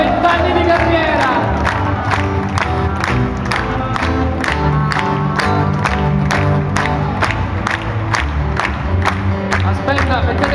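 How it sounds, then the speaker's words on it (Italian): A concert audience applauds and cheers in rhythmic unison, sharp claps landing on a steady beat over live music while the crowd shouts and whoops throughout. "accogliamolo con un applauso"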